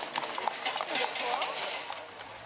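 Horse hooves clip-clop at Appleby Horse Fair, a quick, faint patter of footfalls mixed with crowd noise and a voice talking over it.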